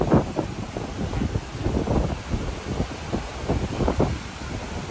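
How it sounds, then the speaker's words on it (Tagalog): Strong gusty wind on Boracay, Philippines buffets the microphone with a constant low roar, rising and falling in irregular blasts throughout. "masyadong mahangin kasi may bagyo"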